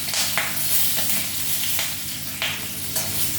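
Two chillies and black cumin frying in hot oil in a pan, a loud continuous sizzle with periodic scraping stirs, no talking.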